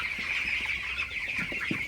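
A crowd of broiler chickens on a farm clucks continuously at close range. Short, overlapping clucks and chirps sound over a steady, busy flock din.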